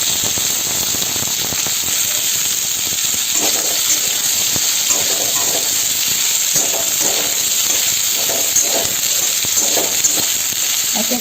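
Besan fritters and spinach fry in a pan with a steady, loud sizzle and hiss, broken now and then by soft pops and spatters, and no voices are heard.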